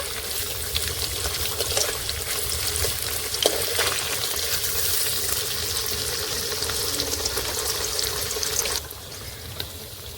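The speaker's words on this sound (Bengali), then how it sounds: "পনিরগুলো দু সাইড ভাজা হয়ে গেছে" Pieces of paneer fry in hot oil with a loud, dense, continuous sizzle, occasional stirring and a brief splash toward the end, close and with no voices.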